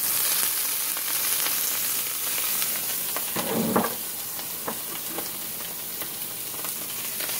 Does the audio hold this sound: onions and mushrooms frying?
yes